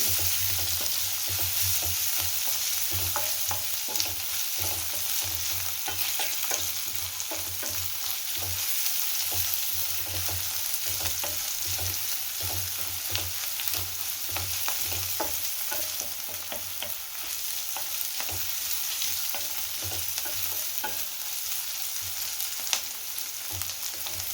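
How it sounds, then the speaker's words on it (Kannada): Cabbage and other vegetables stir-frying in a hot pan for veg hakka noodles, a constant loud close sizzle with rhythmic scraping and tossing of the utensil, no one talking. "ಚೆನ್ನಾಗಿ ಮಿಕ್ಸ್ ಮಾಡಿಕೊಂಡು ಫ್ರೈ ಮಾಡ್ಕೊಳ್ಳಿ"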